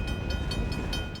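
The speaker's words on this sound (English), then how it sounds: "In Iowa, a grain train lugs corn and soybeans to market." A grain train hauling corn and soybeans to market across Iowa rumbles steadily, with rhythmic clacking of railcars passing close by and a constant hum throughout.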